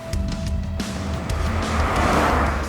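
A 2023 Mercedes GLC 300 4MATIC SUV accelerating, its engine note rising in a steady, fairly loud drone as speed builds over a few seconds, with road and tyre noise underneath and no talk.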